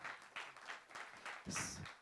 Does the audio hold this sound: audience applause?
yes